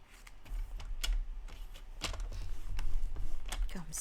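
A paper card measuring about 4.4 by 11 inches is creased at the halfway point, giving close crinkles, taps and scraping rubs in uneven bursts, with a low voice now and then.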